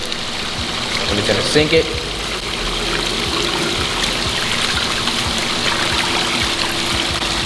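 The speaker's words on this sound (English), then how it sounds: "Look at the water going in." Water steadily pours and trickles into a fish-stocked pool pond, a continuous close splashing rush while a person talks over it.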